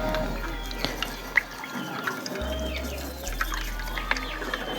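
Surf detergent is stirred into water for cleaning an Alaska A200 battery, giving soft sloshing, trickling and small drip-like splashes close by over a low steady hum.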